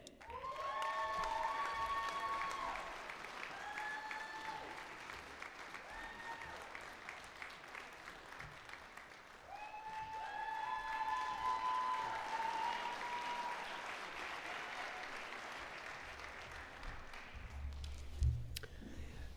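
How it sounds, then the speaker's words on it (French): Sustained applause from a large audience at a university graduation ceremony honouring new political science and law graduates, steady and full for most of the stretch with a brief dip midway, while a voice speaks over it. "Applaudissons chaleureusement les nouvelles diplômées et les nouveaux diplômés des baccalauréats de la Faculté de sciences politiques et de droit"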